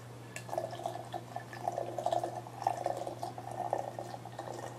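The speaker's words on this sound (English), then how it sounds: "pour the boiling water" Boiling water is poured into a small teapot for brewing tea, a soft, trickling, bubbling stream of liquid heard close and fairly quiet over a steady low hum.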